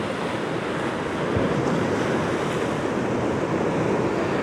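Rough sea surf breaking steadily along the Northumberland coast, a continuous loud roar of churning waves mixed with gusting wind buffeting the microphone, with no voices.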